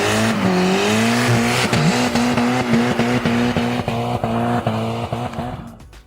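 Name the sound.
Toyota MR2 W20 2-liter 4-cylinder engine revving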